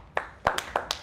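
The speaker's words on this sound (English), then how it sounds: "Y'all clap it up." Four or five separate hand claps from a small audience, sharp and scattered at uneven intervals rather than a full round of applause.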